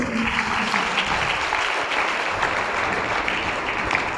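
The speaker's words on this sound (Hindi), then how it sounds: "तालियां बजाकर धन्यवाद" Congregation at a Christian worship service claps in thanks, a continuous, full-bodied round of applause steady from start to finish.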